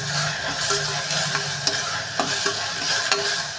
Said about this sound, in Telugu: పసుపు వేసి అయితే ఫ్రై చేస్తున్నాం